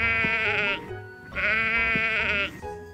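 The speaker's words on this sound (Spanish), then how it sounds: "Muy bien, es la oveja." A sheep bleats twice, each a long, loud, wavering cry heard close up, separated by a brief pause.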